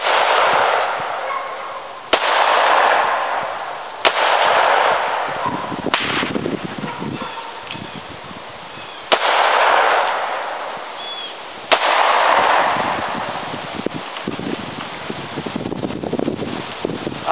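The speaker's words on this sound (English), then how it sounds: "we'll fire off another 6 rounds here" An 1860 Colt Army revolver fires a string of sharp, loud shots outdoors, each crack spaced a couple of seconds apart and trailing into wind and rustling between reports.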